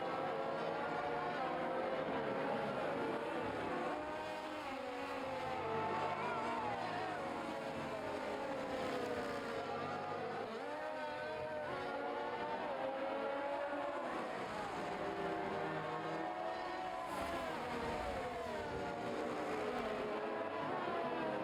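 Ferrari-powered race car engine during a race in Bahrain, a continuous high-revving whine rising and falling through gear changes, steady and fairly loud for the whole stretch, no clear talk over it.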